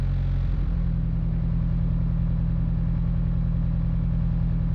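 A Mitsubishi Evo IX engine misfiring on cylinder 3: a loud, steady close-up idle rumble with a rough, uneven pulsing beat throughout, no voices.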